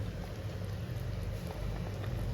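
A pot of parai fish head kuzhambu thickening at a rolling boil, a continuous close bubbling and soft popping patter, fairly quiet and steady with no voices.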